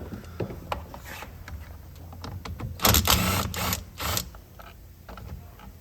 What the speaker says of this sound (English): I got my screw gun in here, and there's a little 10 millimeter in here